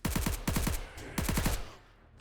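Automatic AK rifle gunfire in the video game 7 Days To Die: three rapid bursts of about three to four shots each, loud and close, with a short fading tail after the last burst.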